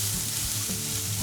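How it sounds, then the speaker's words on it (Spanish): Chopped onion and flour toast in a pan for a vegan meatball sauce, giving a dense, close sizzle with a scraping stir running through it and no voices. "Removemos bien y dejamos que se tueste ligeramente."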